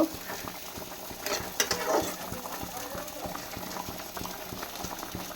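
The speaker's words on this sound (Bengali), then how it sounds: "এই যে এই মাছের ঝোলটা বসিয়ে দিয়েছি" Fish curry bubbling in a pot on a home kitchen stove, a steady low simmering hiss with a brief louder stir or clatter near the middle, while a voice talks nearby.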